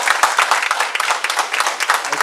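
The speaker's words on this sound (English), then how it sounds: "So give them a round of applause again." Brief, dense applause from an audience at a fire company's officers dinner and dance, a steady patter of many hands clapping at close range.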